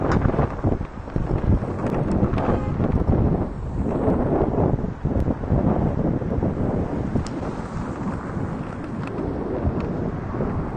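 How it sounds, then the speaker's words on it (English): Strong wind buffeting a microphone outdoors, a continuous loud low rumble with gusty surges that never lets up. "Woo, got windy there, didn't it?"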